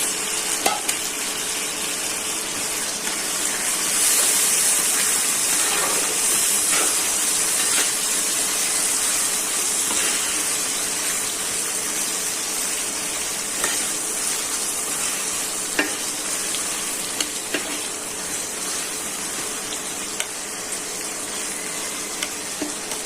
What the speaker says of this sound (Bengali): মশলাটা কষানো হয়ে গেছে, টমেটোগুলো দিয়ে দিচ্ছি, সাথে দিচ্ছি কাঁচামরিচ